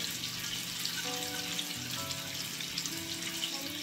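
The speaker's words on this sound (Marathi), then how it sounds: "असा गोल्डन ब्राऊन असा लसूण तळून घेतला आहे" Garlic frying in oil for poha chivda gives a steady, fairly quiet hiss and crackle, with a faint hum running beneath it and no voices.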